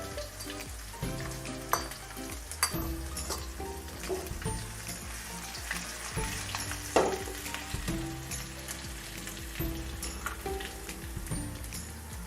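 A spoonful of garlic paste fries in a pan, crackling and sizzling loudly and continuously up close, with scattered pops and occasional stirring scrapes, no speech over it.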